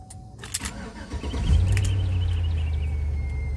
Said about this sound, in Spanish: prendió sin ningún problema. Prendió excelente.